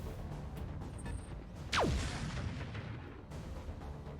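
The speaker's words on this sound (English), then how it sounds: "they just fired what sounded like a Gauss rifle" A Gauss rifle fired by a Dragon Slayer mech in the video game RogueTech, a single heavy boom with a sharp falling whine that drops into a deep rumble, above a steady low battlefield hum.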